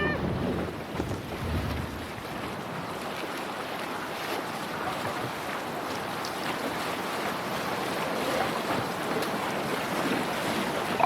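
Sailing ship cutting across open sea in the game Assassin's Creed Valhalla, with steady wind rush and broad wash of waves and surf running continuously throughout, fairly loud and unbroken, no voices.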